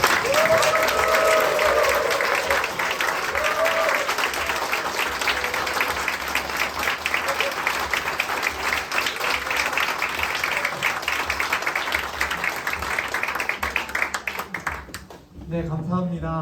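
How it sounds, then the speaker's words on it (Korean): A church congregation at a dedication service breaks into thunderous applause, a dense, loud wash of clapping that holds steady for about fifteen seconds before tapering off abruptly. "아주 우레 같은 박수로"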